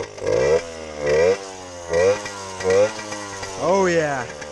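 A pit bike engine revs hard for a burnout in repeated loud, rising bursts, about five throttle blips with short drops between them, close by.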